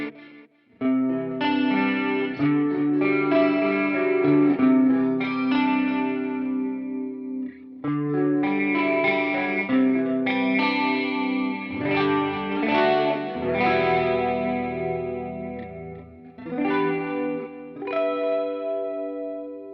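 Clean electric guitar through a chorus effect from a Quad Cortex preset, playing sustained chords and arpeggiated notes with a shimmering, slightly warbling tone, loud and alone with only a brief pause midway.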